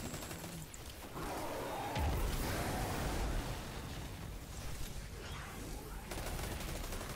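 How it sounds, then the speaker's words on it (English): The Foregone Conclusion auto rifle in Destiny 2, firing in sustained rapid bursts of gunfire that dominate the mix, with a heavier thumping stretch partway through. "And then let's open fire."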